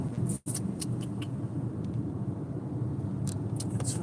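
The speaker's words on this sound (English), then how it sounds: "It's raining, there's all kinds of traffic." Low, steady road rumble of traffic on a rainy night, faint and distant, with a brief dropout near the start and a few light clicks scattered over it.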